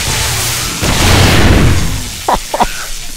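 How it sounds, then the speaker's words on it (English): Grenade blast during a Blood Moon horde fight at a pyramid base in 7 Days to Die: a loud, rolling boom that swells and fades over a couple of seconds, followed by a few short, sharp pops. "A grenade."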